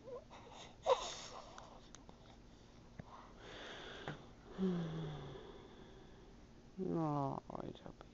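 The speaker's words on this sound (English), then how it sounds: "Oh, it's a big yawn." A cat gives a drawn-out yawn at close range, ending in a squeaky rising whine, after soft breathy sniffs and a few faint murmurs.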